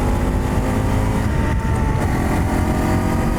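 A small, light adventure motorcycle engine, a loud steady buzzing drone held close throughout.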